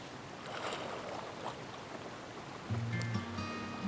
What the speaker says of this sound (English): down through the heart of this region, a marvelous creek runs through it